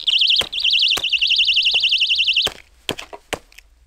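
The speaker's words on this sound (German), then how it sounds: "Ich glaube, das war's mit dem Alarm." Personal pocket alarm shrieking with a loud warbling siren tone, repeatedly stomped on by rubber boots against a washed-concrete slab; sharp thuds and cracks cut through until the alarm dies after about two and a half seconds, leaving scattered knocks.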